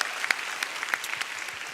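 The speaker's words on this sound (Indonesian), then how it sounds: "Tepuk tangan dulu dong." A stand-up comedy audience at an Indonesian comedy show gives light, scattered applause, the individual claps sparse and soft, heard from a distance.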